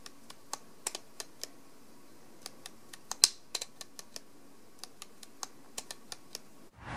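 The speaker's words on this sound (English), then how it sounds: "I'll let you have a listen to the aperture changing" A Vivitar zoom lens aperture ring is turned from f3.5 to f16, giving a string of sharp, evenly spaced clicks, quiet and close, with one louder snap near the middle and a bump at the end.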